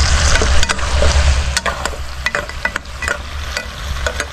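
Shrimp paste (bagoong) with chilies sautéing in a pan, a steady close sizzle of frying with scraping stirring strokes and occasional clicks of the utensil against the pan, no talk.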